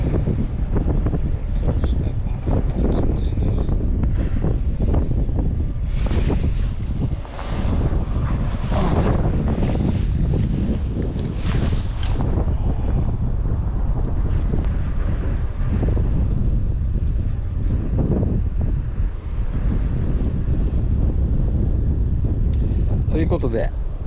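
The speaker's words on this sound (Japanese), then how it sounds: "ちょっと風が強すぎて" Strong wind gusts buffet the microphone at a shoreline fishing spot, a loud continuous roar with surf underneath and occasional talk.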